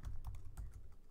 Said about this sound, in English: Sorry, I was typing something else.